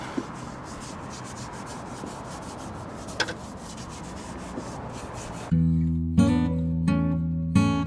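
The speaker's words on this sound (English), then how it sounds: "Just lightly rubbing it. I don't want to rub too hard." Engine part rubbed lightly by hand with carb cleaner, a soft, steady scrubbing rasp for several seconds, then a louder, tonal hum with rhythmic pulses takes over near the end.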